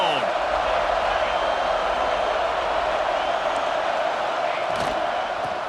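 Broad, steady crowd roar fills a College Football 26 stadium during a Florida State vs Ole Miss game, a dense continuous wash of cheering with a brief swell near the end.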